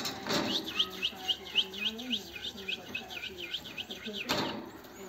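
Caged goldfinches and canaries chirp in quick, repeated high tweets across the whole stretch, fairly close, with brief bursts of louder handling noise at the start and near the end.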